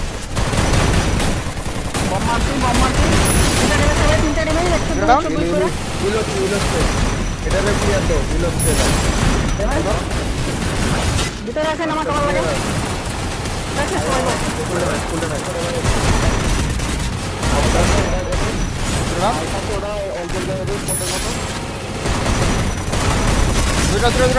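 Gunfire in the mobile battle-royale game Free Fire during a Bangladeshi esports match, including sniper shots: dense, loud overlapping bursts and booms that run almost continuously, with voices talking over them.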